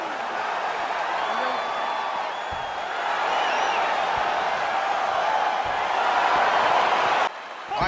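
A crowd in the EA Sports UFC 4 fighting game buzzes with excitement as a bout gets underway, a continuous roar with scattered whoops and a few dull thuds, then a brief drop at the very end.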